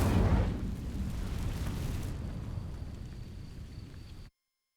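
Incendio fire spell igniting dry vines in Hogwarts Legacy, a sudden close whoosh burst that settles into a roaring, crackling rumble of flames before cutting off abruptly.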